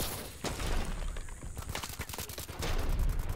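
Dense, rapid gunfire bursts crackle through a video game firefight, shots clustered in volleys with brief gaps, loud and continuous across the stretch.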